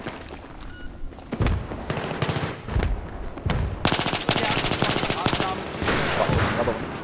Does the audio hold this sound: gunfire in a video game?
yes